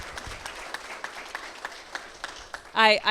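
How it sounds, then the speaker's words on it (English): Light, scattered clapping from a crowd at a cancer care center ribbon cutting in Columbus County, thin and fairly quiet, before a voice starts speaking near the end. "So give yourselves a round of applause, please"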